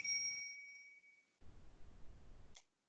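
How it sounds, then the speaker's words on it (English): A bright electronic notification ping rings once during an online council hearing, a clear two-tone chime that fades over about a second, followed by a stretch of soft background hiss. "I don't know why that ping was there."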